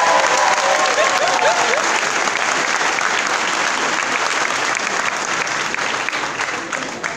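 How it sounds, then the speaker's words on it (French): Sustained applause from a conference audience, dense and steady for the whole stretch, loud and close, with a faint voice briefly heard early on. "Applaudissez ma petite soeur."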